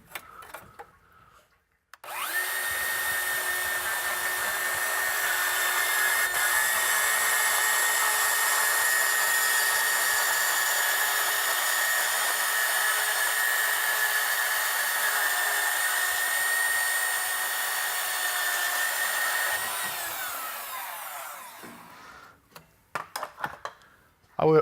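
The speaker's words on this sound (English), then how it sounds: "If you guys have never used a portable bandsaw, this thing really is amazing compared to a Sawzall." A portable bandsaw cuts through metal while a 1960 Chevrolet Biscayne Impala's engine is being removed, a steady high whining buzz that runs about eighteen seconds before spinning down, with clatter before and after.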